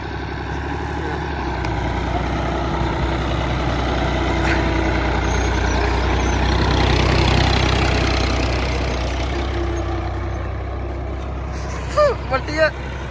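A farm tractor on a Pakistani village field runs steadily as it is driven, its engine drone rising and falling while voices talk over it, ending with a few short sharp knocks.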